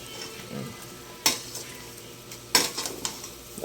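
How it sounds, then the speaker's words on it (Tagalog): A pot of pork adobo is stirred by hand: two sharp scraping clanks of the utensil against the pot stand out over a low background simmer, followed by a few softer knocks, all close and without speech. "Haluin lang natin mga tol."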